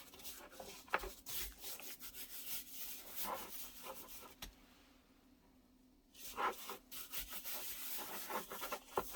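Hands rubbing dry seasoning into raw pork spareribs, a close, dry scuffing and sliding texture in irregular strokes, pausing briefly midway before the rubbing resumes.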